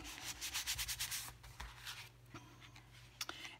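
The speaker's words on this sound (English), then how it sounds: "just rub that tape in" Tape rubbed down firmly onto a handmade fall greeting card, a close, papery rubbing and scraping in quick repeated strokes, loudest early and then lighter, with a few soft taps near the end.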